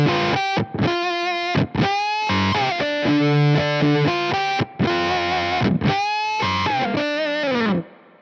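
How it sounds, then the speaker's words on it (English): Electric guitar through an engaged Behringer Octavia vintage-style octave fuzz pedal, producing a bright, buzzy fuzz with an added upper octave; loud phrases of notes and chords ring out alone with brief pauses between them. "As you can hear, it's giving that beautifully imperfect octave up, throwing all sorts of pleasant surprises into the mix."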